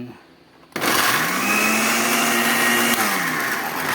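A kitchen blender starts abruptly and whirs steadily at a high, loud pitch as it blends leftover fruit, the motor tone dipping slightly under the load, after a moment of quiet before it kicks on.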